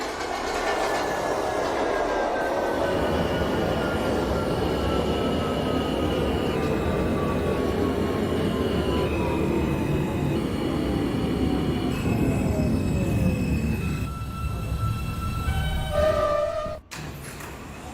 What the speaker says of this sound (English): This is a Forest Hills 71st Avenue bound R train.